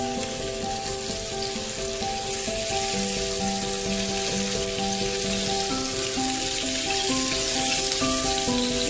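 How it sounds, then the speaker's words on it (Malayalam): Mackerel frying in a pan for a homestyle roast, a steady dense sizzle with soft crackle running throughout, under a continuous faint hum and no talking. "നമ്മളെ മീന് ഒരു ഭാഗം ഫ്രൈ ആയിട്ടുണ്ട്"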